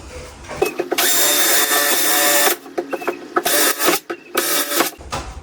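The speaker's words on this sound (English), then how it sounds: "So what I'm going to do now is drill my holes, put my plugs in" Close, loud power drill boring holes into a kitchen wall, hitting a stud, a long grinding run followed by several shorter bursts and stops.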